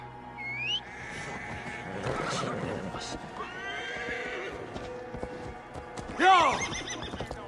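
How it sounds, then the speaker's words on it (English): A horse in Assassin's Creed Valhalla snorts and whinnies with a loud neigh near the end, hooves clopping beneath, mixed with game music and ambience while someone talks over it. "let's grab the horse"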